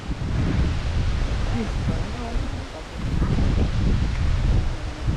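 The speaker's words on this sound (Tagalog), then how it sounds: "ang lakas ng hangin" Strong wind roars steadily into the microphone, a broad buffeting rush that swells and eases, with faint voices mixed underneath.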